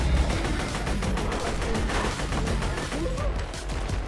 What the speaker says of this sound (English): Couple more shots in him. Put him down.